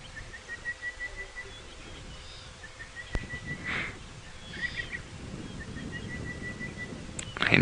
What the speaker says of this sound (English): And here, Levalant's cuckoo as well.